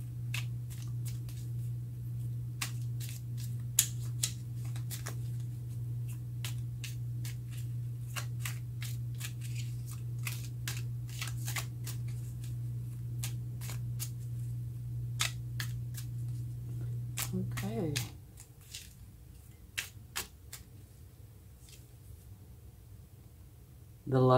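Tarot cards are shuffled and drawn in a quiet room, with crisp, rapid flicks and riffles repeating close by over a steady low electrical hum; a final card snaps down near the end.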